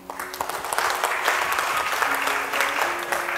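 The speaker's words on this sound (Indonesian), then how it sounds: "Saya boleh minta tepuk tangannya?" Audience applause at a ceremony honouring long-serving civil servants, a sustained, moderately loud burst of many hands clapping that swells and holds with scattered voices in the room.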